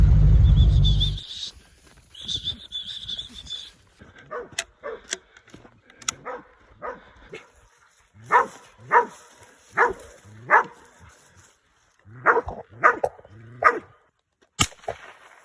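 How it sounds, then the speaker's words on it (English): Border Collies bark repeatedly in sharp, rhythmic bursts at close range, with a whimpering yip between barks and a windy rush at the start, during feral dog control work in the Australian outdoors. "Border Collies in action."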